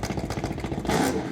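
Drag car engine fitted with a gigantic compressor at Sick Week 2024, Orlando Speed World, a loud rapid pulsing idle that swells into a rev near the end.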